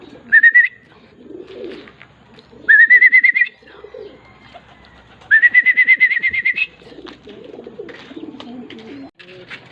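A racing pigeon arriving at the loft during a training race gives three loud, close bursts of pulsing, whistle-like calls with quieter rustling in between.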